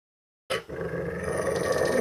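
A dog growls low and rough over its food, a sudden close snarl that starts abruptly and holds steady for over a second with no voices.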